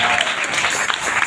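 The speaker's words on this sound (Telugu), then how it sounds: "చప్పట్లు కొట్టి వెలిగిన ఆహ్వానిస్తాను." A church congregation claps in welcome, a short burst of dense, loud applause from many hands, close and continuous with no pauses.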